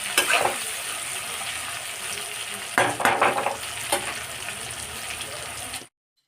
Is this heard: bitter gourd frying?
yes